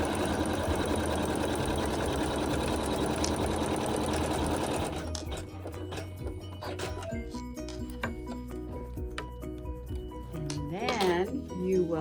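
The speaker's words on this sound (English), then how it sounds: "then you're just going to let the embroidery machine sew a seam" An embroidery machine stitches a seam in quilt-block fabric with a fast, steady mechanical whir for about five seconds before stopping, followed by quieter handling sounds and a voice talking.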